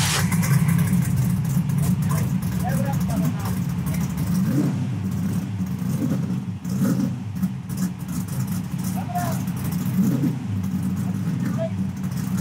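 Race car engine firing up and running, a low rumbling idle with uneven surges and occasional revs, fairly close, with people talking over it throughout.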